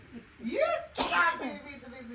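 Someone talks, then a single sharp sneeze bursts out mid-speech, close and loud, followed by more talking.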